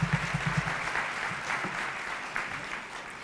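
Conference audience applauding young people: a short burst of steady clapping from a medium-sized crowd, dense at first and tapering slightly over a few seconds.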